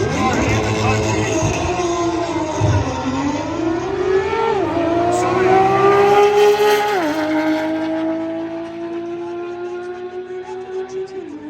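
A Porsche GT3 RS engine revs hard and loud, its pitch climbing and falling through several sweeps before settling into a steady high drone that fades slightly near the end, with voices faintly present.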